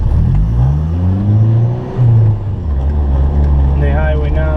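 A 7th-gen Honda Accord fitted with a twin-disc clutch pulls hard, its engine note climbing steadily in pitch through the gear, then dropping briefly at a shift before rising again, loud and close inside the cabin.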